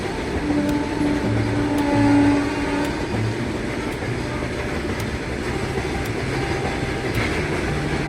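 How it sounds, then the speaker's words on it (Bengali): A freight train rolls steadily past a station, with a continuous rumble and regular clacks of wheels over rail joints, fairly close. "স্টেশনে আবার একটা ট্রেন আসতে চলেছে, মানে মালগাড়ি বটে"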